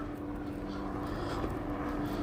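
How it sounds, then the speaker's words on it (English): A distant police helicopter drones steadily overhead in Huntington Beach, a constant low rumble with no voices. "I believe the helicopter's up in the air."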